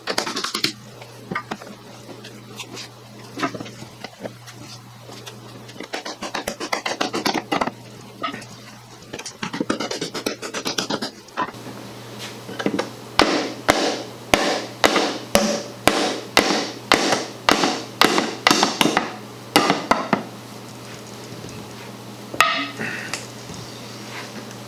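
A loose leg is knocked out of an antique oak fern stand, first with scattered taps and scrapes and then with a rapid series of sharp, evenly spaced hammer blows. A few isolated knocks follow.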